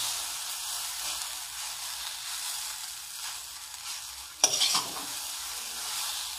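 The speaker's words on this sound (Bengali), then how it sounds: "ভালো করে নেড়ে নেবো।" Chow mein with soy sauce and tomato sauce frying in a pan, a steady close hiss with one brief louder stirring scrape partway through.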